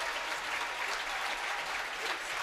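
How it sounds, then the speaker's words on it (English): Dense, continuous applause from Blue Jays fans in a gym at a high school basketball sectional final, a steady crowd roar of clapping for a senior player. "gets a big round of applause from the Blue Jays fans here"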